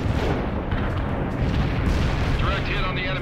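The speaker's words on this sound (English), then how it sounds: "Order barrage executed." An artillery barrage rumbles in the World in Conflict strategy game. Deep booms and blasts roll continuously and loud, while a radio-style voice speaks over the bombardment.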